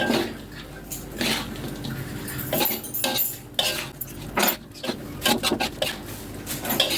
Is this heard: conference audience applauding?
no